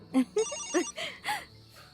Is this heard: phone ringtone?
yes